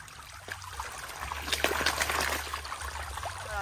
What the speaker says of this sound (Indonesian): Karena kita manual harus membuang pasir-pasir halusnya dari pinggiran dulangnya.